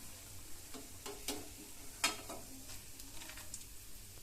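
Capsicum bonda batter frying in hot oil over a high gas flame, a faint steady sizzle broken by a few soft crackles and light taps, heard alone without talk.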